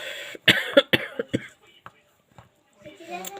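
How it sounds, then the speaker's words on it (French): Several sharp coughs in a quick burst, close and fairly loud, followed by a pause and a faint throat sound with a soft voice at the end. "je suis désolée si vous m'entendez tousser."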